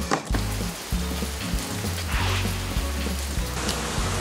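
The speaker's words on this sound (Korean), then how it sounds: "와, 너무 많이 와 비가." Heavy rain pours steadily during a trip in Gyeongju, a dense, continuous hiss that stays even and close throughout, with a low tonal hum underneath.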